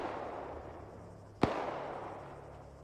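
A single sharp crack of a distant gunshot in Arma 3 cuts through a quiet, hissing outdoor background, followed by a short decaying echo.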